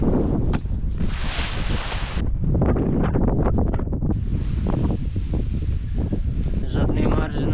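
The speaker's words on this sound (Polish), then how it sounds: "Wiatr był cały czas za mocny." Heavy wind buffets the microphone in the Alps throughout, a loud rumbling roar with gusty bursts and no pauses.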